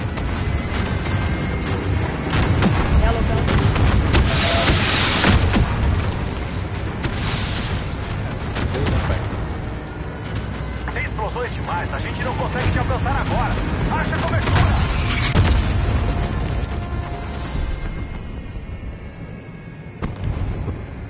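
Loud, dense booms and rapid gunfire-like blasts from a video game keep rolling for the whole stretch, with people talking over the din.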